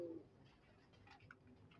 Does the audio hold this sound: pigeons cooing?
yes